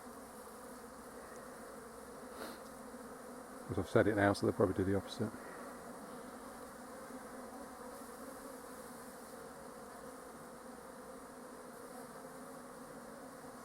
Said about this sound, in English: So hopefully you can see there's bees all over this.